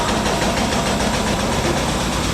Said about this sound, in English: This is the type of steam engine they had on board with a generator here. We have to bring the generator up to speed.